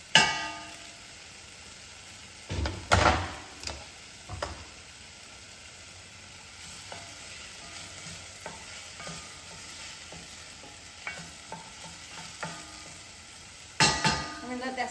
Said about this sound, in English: I'm going to add my garlic so it starts so it cooks a little bit without burning it.